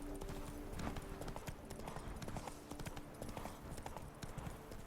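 Horse hooves clip-clop steadily in The Witcher 3, a continuous rhythmic trot with dense clattering footfalls over low ambient game sound, moderately close and fairly quiet.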